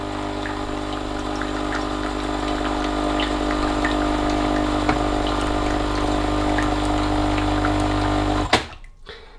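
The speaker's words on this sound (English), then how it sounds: "when you're making a coffee on your Dolce Gusto Mini Me and it's splashing everywhere" A Dolce Gusto Mini Me coffee machine pumps and dispenses into a cup set too low so it splashes, a steady loud mechanical pump hum with trickling liquid that runs for about eight seconds and then cuts off abruptly.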